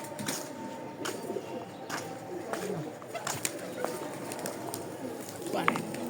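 A flock of pigeons flutters down to feed, wings flapping in several bursts amid soft cooing and scratchy movement, with light background chatter.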